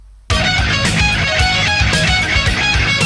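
Electric guitar plays a funky, rhythmic lead phrase from a song's solo, loud and sustained with bends and quick picked notes, entering after a brief silence.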